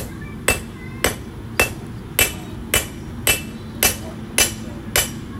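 A heavy hammer strikes hot steel while a knife is forged, landing nine ringing blows at an even pace of about one every half second, close and sharp over a low background hum.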